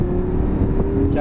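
A car's engine hums steadily through a driving lesson in a learner vehicle, with a low, even drone and a slight rise in pitch near the end as it speeds up.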